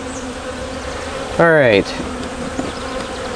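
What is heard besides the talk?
honey bees buzzing around a hive brood box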